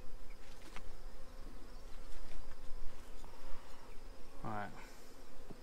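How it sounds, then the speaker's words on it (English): Honeybees buzz around an open hive while queen cells are handled, a steady, moderately close drone with individual bees flying past, and a person speaks briefly. "We got bees we need to put back in here, huh?"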